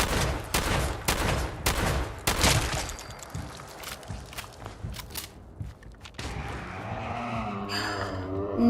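Shotgun blasts in Fallout 4 during a Nuka-World fight, a rapid run of loud, close booming shots that thins out into scattered hits and then gives way to a steady mechanical hum with no speech.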